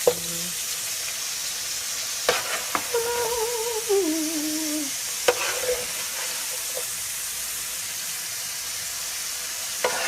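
Oxtail stew in a pot gives a steady low sizzle and spatter throughout, with a few sharp clinks of a stirring spoon, alone with no talk.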